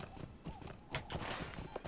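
Horse hooves clip-clop in a quick, even gait as a mount is ridden in the video game Lord of the Rings Online, fairly close and crisp, with a faint musical backdrop and no speech.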